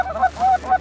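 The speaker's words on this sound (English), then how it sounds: "It's a good bunch of geese here" A flock of geese honks in quick, close calls during a waterfowl hunt in Alberta, three loud nasal honks in under a second.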